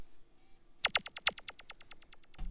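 A simple electronic zap percussion hit built in FL Studio, run through Fruity Delay at a low mix, fires a bright burst followed by a train of quickly repeating echoes that fade out, with another hit at the very end.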